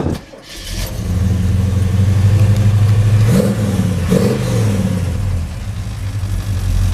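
A 1970 Chevrolet Chevelle hardtop engine cranks and catches, then roars loudly and steadily up close, with a couple of revs lifting the pitch before it settles into a rumbling idle.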